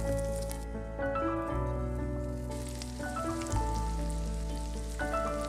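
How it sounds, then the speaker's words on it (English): Onions frying in melted lard in a frying pan, a steady close sizzle with crackle running the whole time beneath a layer of soft background music. "it's time to put everything in a frying pan, but the lard should melt for a minute before we add the onions"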